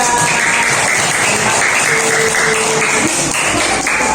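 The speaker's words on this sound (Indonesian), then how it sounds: "Kasih tepuk tangan untuk kelompok 3." A classroom group receives steady, continuous clapping from students that holds at an even level throughout, with no talking over it.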